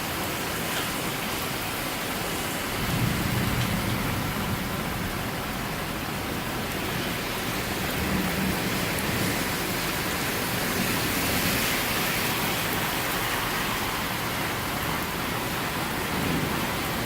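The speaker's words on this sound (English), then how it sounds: "It's raining hard." Heavy rain pours during a severe thunderstorm in Newburg, Pennsylvania, a dense, constant hiss and patter that stays loud and unbroken throughout, with faint low rumbles underneath.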